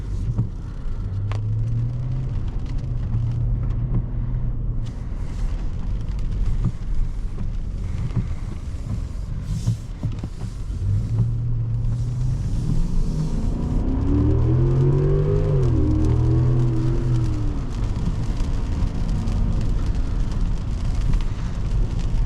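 A 2022 Genesis G90 with a 5.0L V8 driving in sport mode, heard from the cabin as a steady low engine drone with wind and road noise, rising in pitch as it revs up partway through.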